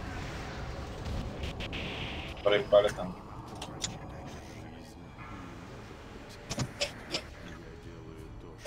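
A World of Warcraft explosion during a raid boss fight, a short booming burst with a crackling tail rising out of a steady hum of game noise, followed by a few sharper hits later on.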